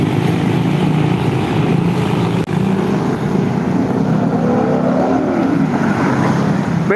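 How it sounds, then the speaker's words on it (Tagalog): Big trucks pass along a busy road used by weekend bikers, making a loud, continuous rumbling roar that swells as vehicles go by, close and dominating the scene with no talk. "Dami lang dito ang truck, maingay talaga."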